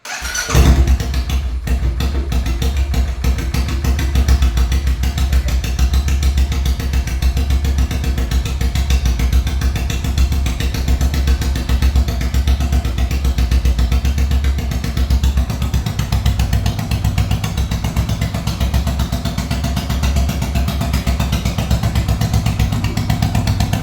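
A Royal Enfield Continental GT 535 motorcycle cranks and fires up, then settles into a steady, loud, thumping single-cylinder idle that runs unbroken for over twenty seconds, close by and alone.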